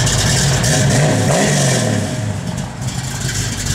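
A 1972 Plymouth Cuda pulls away and accelerates while being driven, its engine a loud, close, rising roar that eases off toward the end, with no talk.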